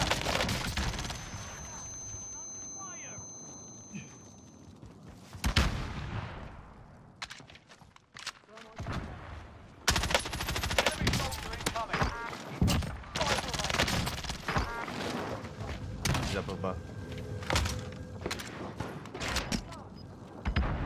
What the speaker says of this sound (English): They're shooting in as well.